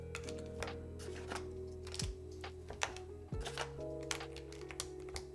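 Keystrokes clatter on a DrunkDeer A75 Ultra Hall effect mechanical keyboard, a steady run of close, crisp clicks with a few heavier thocks. No one speaks over the typing.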